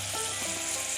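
Curry leaves hit hot oil with frying onions for a mutton biryani, giving a loud, steady crackling sizzle close up, with no talking.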